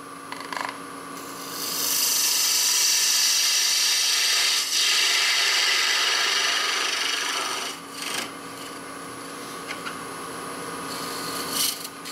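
A lathe tool scrapes across a spinning wooden lid, a steady broad rasping hiss that runs for most of the stretch after a short lead-in, easing off briefly near the end before resuming.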